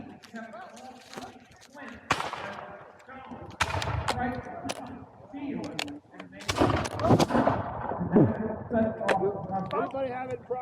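Gunfire crackles during an autumn skirmish, with scattered close shots and bursts mixed with shouting voices throughout.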